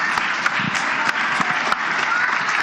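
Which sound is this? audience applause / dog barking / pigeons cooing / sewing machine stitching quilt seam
audience applause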